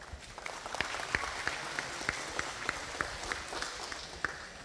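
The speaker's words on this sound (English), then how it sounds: "give them a round of applause" Audience at the 52nd Carolina Angus Futurity cattle event in Clemson, SC, gives a steady round of applause, dense sustained clapping with sharper individual claps standing out, moderately distant, with no talk over it.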